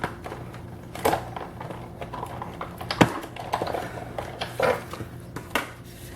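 A die-cutting machine pushes cardstock between cutting plates, with a thinlit die, through its rollers twice, producing irregular close clicks, knocks and clattering taps with a sharp crack midway, fairly quiet and without talk.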